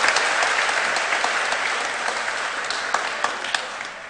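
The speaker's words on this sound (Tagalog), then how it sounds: "Palakpakan tayo po yung kakatamong patuloy." Congregation applause at a church fiesta for Saint James the Apostle, a dense steady wash of many hands clapping with scattered sharper claps, continuous for about four seconds.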